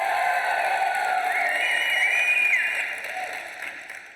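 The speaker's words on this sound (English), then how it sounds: "Dr. David, were you guys clapping because I got his name right?" An audience claps at a dental school white coat ceremony, a dense, moderately close round of applause that tapers off over the last second or so.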